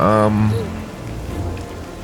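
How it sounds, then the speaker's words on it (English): Steady rain falls in the fantasy role-playing game Pathfinder: Wrath of the Righteous, giving a dense, even hiss. A voice speaks briefly over it at the start. "Oh, it's raining."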